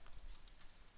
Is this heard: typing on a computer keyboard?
yes